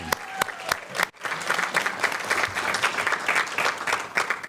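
A school board meeting audience breaks into applause for a popular honoree: a few isolated claps, then a brief pause, then fuller sustained clapping from the crowd.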